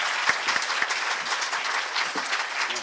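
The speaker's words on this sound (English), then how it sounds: "I'd like to give a nice round of applause for Joe, Chris," A steady round of applause rises from the audience at a Quantum Leap 20th anniversary guest panel. Dense clapping continues for the full clip with a few louder claps near the front and no speech over it.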